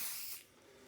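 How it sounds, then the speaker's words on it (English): Basting spray is sprayed onto fabric while a zippered bag is being made: one brief, soft, airy hiss that fades within a second, alone and quiet. "So I am going to use a little basting spray on the bottom only"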